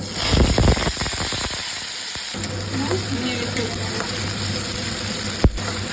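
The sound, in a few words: banana stem paste with cumin frying in oil in wok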